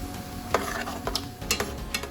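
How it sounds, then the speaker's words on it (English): Food sizzles and crackles softly in a pan, with a few stirring scrapes and taps breaking through the steady hiss. "It's a nice sizzle."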